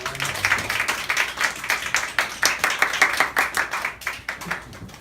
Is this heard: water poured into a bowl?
no